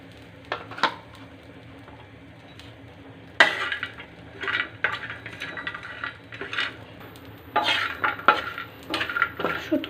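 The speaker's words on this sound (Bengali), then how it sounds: "প্রথমে আমি শুটকিটাকে ভেজে নেব।" Dried loitta fish fries in a pan, with a faint sizzle under repeated clanks and scrapes of a spatula against the metal, heard in close bursts with quiet gaps and no speech.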